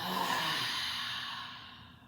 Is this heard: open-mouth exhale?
yes